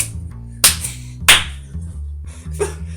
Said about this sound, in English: Don't clap.